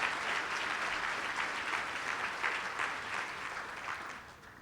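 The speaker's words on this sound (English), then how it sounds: "let's give them a round of applause because really this is about them" An audience at a school breakfast event claps steadily for students standing in the room, a dense sustained wash of applause that holds at a fairly loud level before tapering off toward the end.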